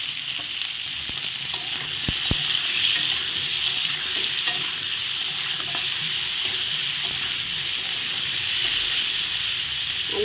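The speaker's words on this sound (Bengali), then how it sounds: "আলুটা ভেজে নিচ্ছি।" Potato pieces frying in hot oil for a Kashmiri aloo paneer dish give a steady, close sizzle with occasional stirring clicks and scrapes, continuous and even throughout.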